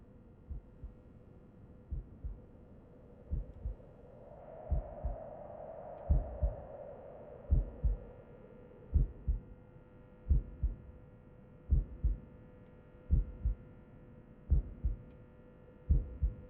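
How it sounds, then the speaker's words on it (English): A slow, steady heartbeat thumps alone at regular intervals in a spooky video game, each soft double pulse sounding close and low over a faint droning hum. "there's a heartbeat"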